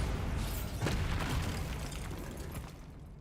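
A low, muffled boom rolls out from the Bombarda spell in Hogwarts Legacy, a broad rumbling burst that lingers and slowly fades over a few seconds.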